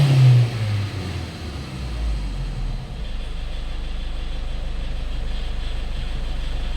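Toyota Innova engine idling roughly with a stalling fault, a low steady rumble that stumbles and hiccups near the start before settling into an uneven drone, close by with no talking.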